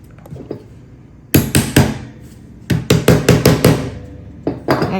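A part is tapped into place with a series of sharp, close knocks in quick bursts, a few isolated hits first, then clusters of rhythmic strikes in a quiet room.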